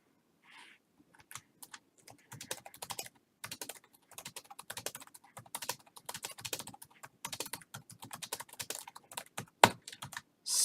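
Fingers type on a computer keyboard to enter text in an Adventuron text adventure. Quiet, rapid, irregular keystrokes come in short bursts with brief pauses, close and without speech.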